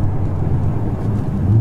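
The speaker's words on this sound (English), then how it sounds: "Oh, there's a downshift." A Ferrari 488 GTB engine roars low and loud close by, its pitch shifting briefly as the revs change on a downshift, steady and without voices.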